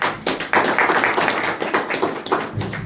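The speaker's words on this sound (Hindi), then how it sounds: "एक अच्छा ताली बजाएं प्रभु के लिए" A congregation at a church service claps together for the Lord, a dense, fairly loud patter of hands that swells and stays steady for a few seconds.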